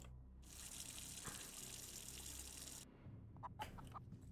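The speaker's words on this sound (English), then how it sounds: "I'm going to top up the chicken's water as well." Water pours steadily to top up a chicken waterer, a faint, continuous gushing stream that stops abruptly near the end, followed by a few light drips and clinks.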